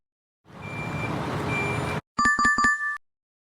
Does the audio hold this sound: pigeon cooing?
no